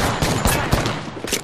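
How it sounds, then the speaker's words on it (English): Rapid bursts of automatic gunfire erupt in a video game shootout, loud and dense, with repeated sharp shots layered over one another. "They spotted me. I'm taking shots."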